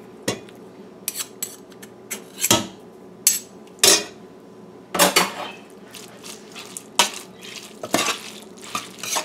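Margarine being stirred into a macaroni pie mixture in a bowl, with irregular sharp clinks and scrapes of a utensil against the dish, some close and loud, separated by short quiet gaps.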